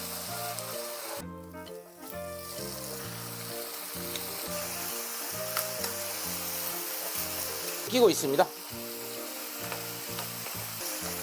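Seasoned dried squid strips stir-frying in a pan, a steady close sizzle with a brief scrape partway through, over a low pulsing background and a short spoken phrase.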